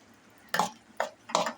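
Cloves dropped into hot oil while cooking a prawn curry: three short bursts of crackling sizzle, each fading fast, close and quiet, with no talk.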